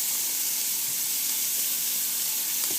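Butter sizzles in a hot frying pan for steak Diane, a steady, close, bright frying hiss with tiny crackles throughout and no talking.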